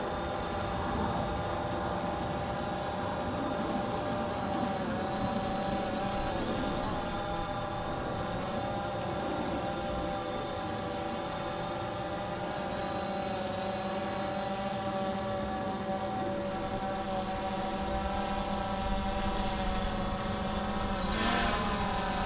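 An RC aircraft flown with a Fluidity FT Aviator controller climbs and circles overhead, its propeller giving a steady, unbroken drone from start to finish.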